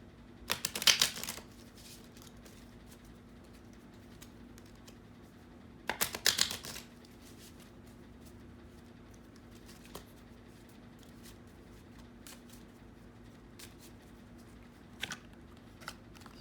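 Oracle cards are shuffled in two short, crisp riffling bursts separated by a pause, with faint taps and clicks between them in a quiet room.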